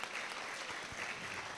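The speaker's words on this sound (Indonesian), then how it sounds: "Tepuk tangan dulu untuk teman-teman semua" A student-day crowd at a university applauds in a brief, dense patter of clapping heard from a distance, holding fairly level throughout.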